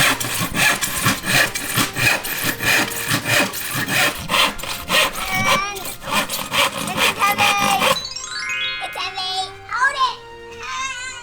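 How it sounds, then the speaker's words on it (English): A hand saw cuts through wood in steady rhythmic back-and-forth strokes for several seconds, close and loud, then stops as a voice and an adult's voice take over. "need to use this saw to cut the wood"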